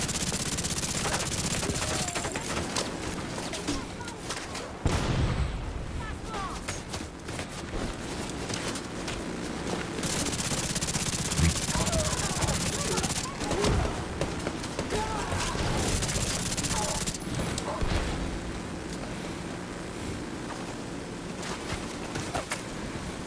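Rapid automated turret gunfire in The Division 2 rattles in dense, sustained bursts, with brief pauses between volleys and occasional voices underneath.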